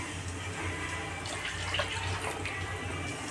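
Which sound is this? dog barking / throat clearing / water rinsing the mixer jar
water rinsing the mixer jar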